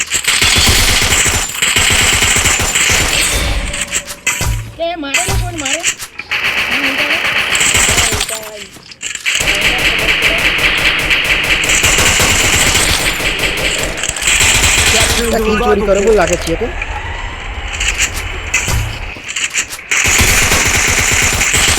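Rapid machine-gun bursts and shot cracks from a squad-versus-squad battle royale ranked match, loud and repeated throughout, with someone talking over the gunfire.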